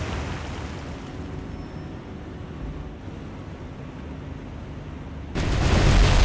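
Ship magazine explosion in the naval game War on the Sea, a deep rumbling roar sustained throughout that surges into a sudden louder broadband blast near the end, with no talk.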